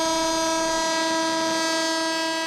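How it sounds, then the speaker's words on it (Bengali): A train's horn blows one long, unbroken, steady tone as it pulls out of the capital, loud and close, with a low rumble of the train beneath it and no speech. "লম্বা হুইসেল বাজিয়ে ইট কাঠ আর যান্ত্রিক জীবন থেকে একটু বিরতি নিতে ছুটে চলেছে ট্রেন"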